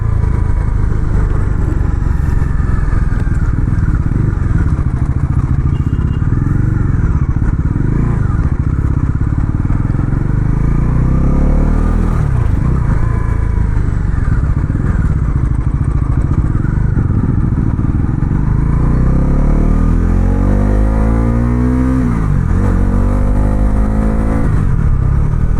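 Bajaj Pulsar NS 400 motorcycle on a test ride, its engine droning loudly and steadily with repeated rev rises and gear changes, wind rumble and road noise throughout, and brief talk faint underneath.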